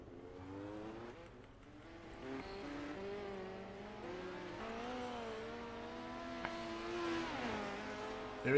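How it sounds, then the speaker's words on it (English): Midget race cars warming up on a Knoxville sim racing track, their engines droning steadily with rising and falling pitch at moderate distance, a few tire squeals and revs layered over the continuous hum. "Drivers are warming up the race cars"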